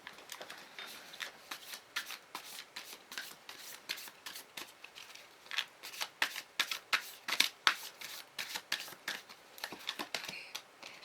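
A deck of tarot cards is shuffled and spilled by hand during a reading, a quiet run of crisp, rapid riffling flicks and slaps close by, coming in uneven bursts.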